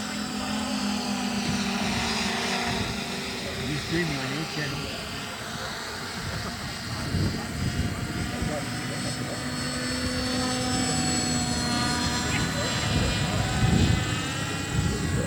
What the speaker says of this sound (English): And we've got other aircraft in the air.